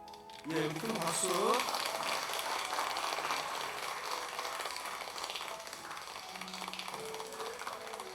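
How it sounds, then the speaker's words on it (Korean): A church congregation applauds during a Sunday worship service, a steady wash of clapping that rises after a brief tonal voice and lingers at moderate loudness, thinning toward the end. "큰 박수."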